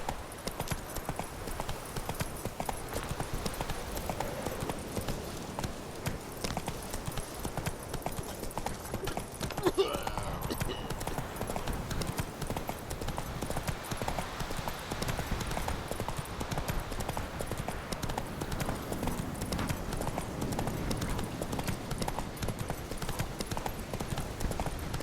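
Hooves pound in a continuous fast gallop as a horse runs in the video game The Witcher 3: Wild Hunt, a steady close clatter lasting throughout with a brief disturbance near the middle.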